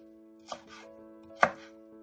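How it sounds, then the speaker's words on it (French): A kitchen knife finely chopping ingredients on a cutting board for sweet-and-sour chicken, two distinct sharp chops with a lighter tap between, close and alone. "vous prenez vos petits morceaux et vous les hachez en fait beaucoup plus finement"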